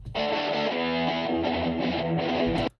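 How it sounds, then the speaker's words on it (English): A heavily distorted electric guitar chord through an amp simulator with light room reverb rings out steadily and loud for a couple of seconds, then cuts off abruptly. "So let's listen to the guitar tone."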